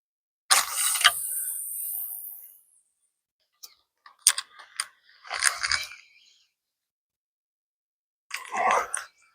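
Fishing reel mechanism creaking and clicking during spomb casting at a lake, heard in several short bursts separated by quiet pauses, close and fairly loud, with no voices.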